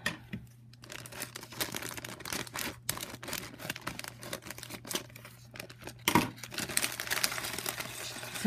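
Scissors cutting open the plastic and cardboard packaging of a Lego City go-kart race car set, with crinkling, snipping and tearing sounds in irregular bursts, close and moderately quiet.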